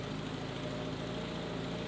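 A Subaru BRZ's equal-length-header boxer engine idles on a cold start through an axleback exhaust, giving a steady, deep, low rumbling drone with an even unbroken texture and no talk over it.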